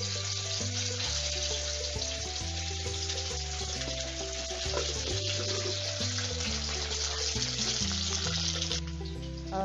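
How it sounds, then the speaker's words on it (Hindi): Steady loud sizzle of momos frying in oil in a pan, constant and close throughout, with no voices over it. "और उसे भी मैं जिस तरह से मैंने पहले वाले मोमो को फ्राई किया है वैसे ही फ्राई करके इसे निकाल लूँगी।"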